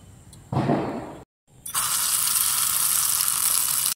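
Oil in a small hot miniature pan sizzles loudly in a short burst, cuts out briefly, then resumes as a steady bright frying hiss, close and alone.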